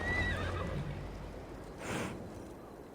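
A horse in the video game Assassin's Creed Valhalla whinnies loudly and shrilly over a steady rumbling of galloping, followed by a brief snort or breathy burst.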